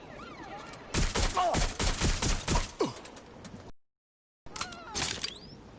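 Rapid bursts of gunfire crackle loudly in Watch Dogs Legion, a dense volley for a few seconds, then a brief silence and another short burst with whistling tones.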